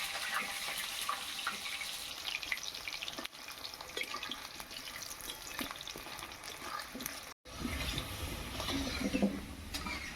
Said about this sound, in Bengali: আলুটা আমি ওই তেলেই ভেজে নিচ্ছি।